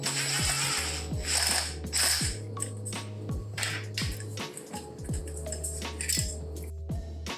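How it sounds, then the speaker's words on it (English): Ratchet clicking while set screws holding the headlight trim ring are removed from a vintage scrambler motorcycle, a close run of rapid mechanical ratcheting in repeated bursts with faint metallic clinks between them, no speech. "that's gonna be done by removing these 2 screws in the bottom"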